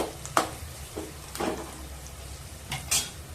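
Onions sautéing with salt in a pan, a soft sizzle broken by a few sharp spatula scrapes and stirring knocks, close and moderately quiet, with no talking.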